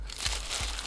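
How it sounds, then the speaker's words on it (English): Paper wrapping being pulled off a new plush toy, a brief close crinkling rustle with a couple of soft crunches. "Has some paper wrap to it."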